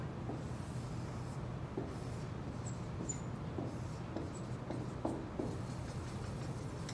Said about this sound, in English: I'm going to draw my curve quickly.